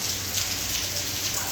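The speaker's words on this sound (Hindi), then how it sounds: "तुम्हें पता नहीं थी कि बारिश हो रही है?" Rain falling steadily outdoors, a dense, even hiss of drops close to the microphone with no pauses, with no voices over it.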